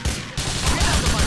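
An M4 assault rifle fires in GTA IV in loud, close, rapid automatic bursts, the shots coming in an even, driving rhythm.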